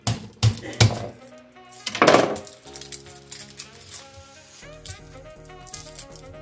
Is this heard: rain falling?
no